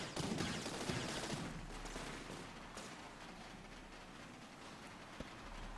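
Rapid gunfire from vehicle-mounted tech weapons in TerraTech, a dense crackling barrage that fades into a softer rain-like patter, fairly quiet and without talk.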